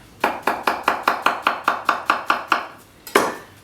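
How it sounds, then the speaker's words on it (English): A banana being sliced on a cutting board for muesli, a dozen crisp, evenly spaced knife chops in a steady rhythm, then a short pause and a final louder chop, close and clear with no voices. "So chop a banana up"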